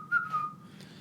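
A person whistles a short rising-and-falling tune, brief and fairly clear over a low background hum.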